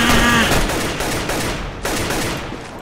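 Gunfire in the video game Counter-Strike: Global Offensive, a dense, loud burst of rapid shots filling the moment with a sharper report near the end.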